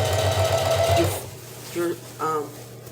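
A sewing machine stitches along a seam of a simple pair of pants, its fast mechanical whir running for about a second before stopping, followed by a couple of short tonal beeps or squeaks.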